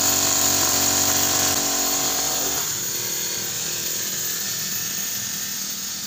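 A digital spray machine sprays pesticide over a paddy field, its motor droning with a loud, steady whine that shifts pitch partway through and then settles into a continuous hum.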